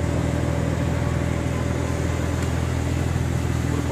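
A Porsche's engine gives a loud, steady, close drone that keeps the same level for the whole stretch, with no distinct rise or fall in pitch.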